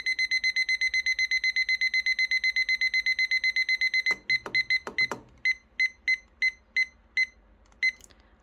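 A kitchen timer set while baking raisin cupcakes beeps in a fast, steady run. The beeps then slow into separate, spaced beeps, loud and close, with no voices.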